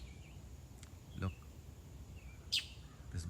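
A single bird chirps in short, bright calls, a few scattered tweets spaced apart over faint background hiss, fairly quiet and nearby.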